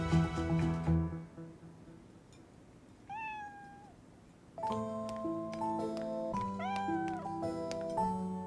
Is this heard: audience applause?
no